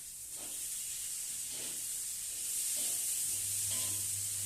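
Chopped onion sizzling as it goes into hot oil in a frying pan, a steady bright hiss under soft stirring scrapes, with a low hum joining toward the end.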